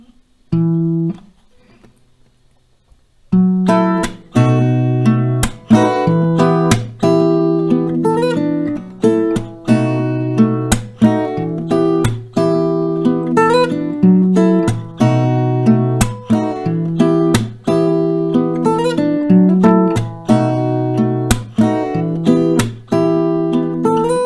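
An acoustic guitar plays a song at a steady tempo, with rhythmic plucked and strummed chords ringing out clearly, after a brief quiet opening.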